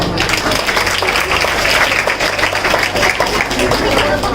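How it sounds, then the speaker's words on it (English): Audience applause fills a school investiture ceremony, a dense, steady wash of many hands clapping at close range, loud and continuous for the whole stretch with a faint voice underneath. "Let's give them a round of applause."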